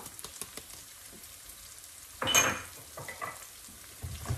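Cauliflower rice frying in a pan as cumin, ground coriander and turmeric are stirred in, with quick close scrapes and taps of the utensil and a sudden louder burst of sizzle, no voices.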